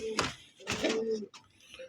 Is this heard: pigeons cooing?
yes